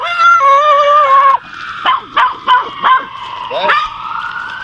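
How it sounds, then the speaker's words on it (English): A small, aggressive dog barks in a rapid burst of four or five sharp yaps, heard close. It follows a loud wailing siren-like tone and overlaps with a rising whine. "Little ass dog, always aggressive."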